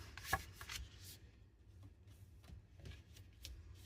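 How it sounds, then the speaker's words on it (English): Paper cardstock being folded back and forth, quiet close crinkling and rustling in short bursts with a few sharper crisp creases, soft and intimate with no talking. "And then I'm going to fold these back and forth."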